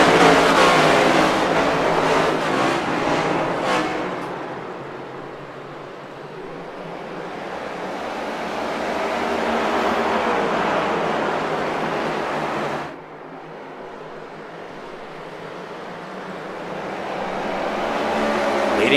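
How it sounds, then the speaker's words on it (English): NASCAR race cars roar through the opening lap of a Throwback 150 at North Wilkesboro in a racing video game, engine drone rising and fading as the pack passes, with a sharp drop near the middle and a swell again toward the end. "NASCAR Throwback 150 in North Wilkesboro is underway"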